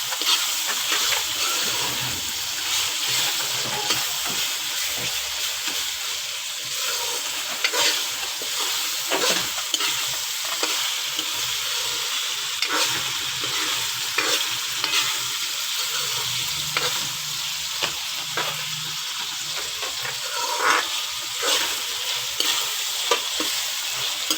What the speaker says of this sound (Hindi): इसको भी 2-3 मिनट हमने भूनना है